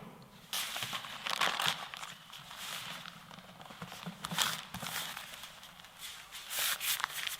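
Material is crumpled by hand to make a radiating creased effect for a Christmas garden decoration, producing soft, close crinkling and rustling in uneven bursts with no voice.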